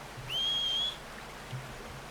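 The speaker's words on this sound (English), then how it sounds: "H, whistle for your horse." A single thin, sustained whistle calls for a horse in Red Dead Redemption 2, rising briefly and then holding, with quiet outdoor ambience underneath and a soft thud afterward.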